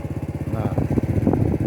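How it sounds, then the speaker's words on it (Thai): A walking tractor engine in rural Thailand, set up to pump water, chugs with a steady rapid putter close by, its rhythmic knocking continuing throughout while someone talks over it. "รถไถหน้ามาสูบน้ำนะครับ"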